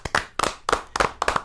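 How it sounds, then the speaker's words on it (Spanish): A handful of sharp, separate handclaps ring out at close range, spaced irregularly like a small audience starting to clap for a guest, the former vice president of the Republic, at a gathering. "Un aplauso"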